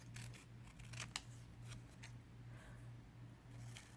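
Scissors snipping through paper while trimming a sheet for a Moleskine journal vision board, a few quiet, close crisp cuts over a faint steady low hum, no talking.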